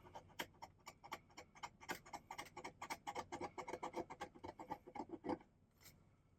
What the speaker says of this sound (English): I may need to scrape this. Scrape it off here.